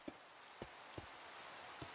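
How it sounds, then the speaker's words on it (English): Rain in the Minecraft video game, a steady faint hiss of falling rain with a few soft, scattered dull drop taps, with no talking. "Oh, it's raining."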